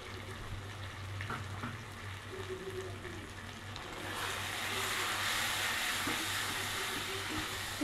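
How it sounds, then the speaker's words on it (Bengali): Cumin and coriander powder sautéed in a pan for a fish-head muri ghonto, a faint low sizzle with light stirring that grows louder and fuller partway through, heard close without speech. "জিরে গুঁড়ো, ধনে গুঁড়ো দিয়ে ভালো করে কষে নেব"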